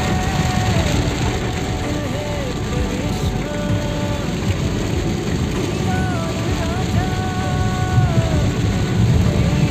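Heavy rain with thunder on a bypass road near Partapur, a dense, steady downpour filling the whole clip, with faint engine or horn tones running through it.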